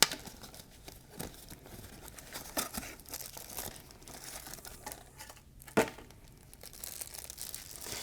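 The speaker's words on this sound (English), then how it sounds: "Now I'm going to be removing the plastic covering." Soft plastic crinkling and rustling as a plastic covering is removed during a urinary catheterization demonstration, close and fairly quiet, with a couple of sharper crackles along the way.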